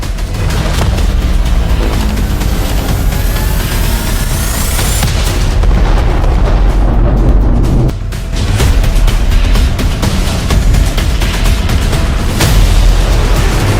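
Loud, heavy booming explosion blasts roll into a dense rumble of crackling debris and noise that keeps going throughout, with no voices.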